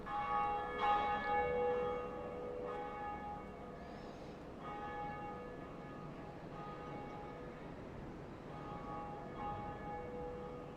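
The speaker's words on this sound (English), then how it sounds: "And the second bell has been rung." Large bell tolling inside the video game Dark Souls, a deep resonant chime ringing out then decaying slowly over a steady ambient drone, with a few softer repeated strikes later on.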